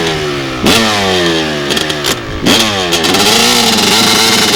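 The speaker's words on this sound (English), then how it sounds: "you start it up, and leave the motor running" Off-road motorcycle engine running loud and close with its rear tire in sand, revving up and down several times, pitch sweeping sharply between blips before settling into a steady idle.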